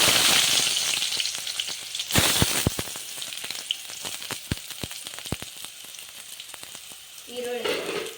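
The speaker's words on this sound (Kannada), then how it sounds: "ಜೀರಿಗೆ ಸಾಸಿವೆ ಚಟ್ಪಟ ಅಂದ ತಕ್ಷಣ ಈರುಳ್ಳಿ" Cumin and mustard seeds spluttering in hot oil, then onion dropped in to fry, heard as a steady loud sizzle with sharp, irregular pops and crackles through the middle and a brief stirring scrape near the end.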